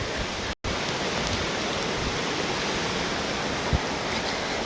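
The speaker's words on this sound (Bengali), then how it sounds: "প্রচণ্ড বৃষ্টির কারণে ভিডিও করতে খুব সমস্যা হচ্ছে আমার সবাই দেখুন বৃষ্টির কি অবস্থা" Heavy storm rain pouring in a village in Kushtia, a dense, loud, unbroken roar of water close by with one brief dropout, no voices.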